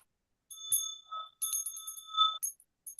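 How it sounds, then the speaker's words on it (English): A small hand bell rings a few bright, clear strikes, each tone hanging briefly before fading, in an otherwise quiet indoor space. "maybe I'll manage it with my little bell"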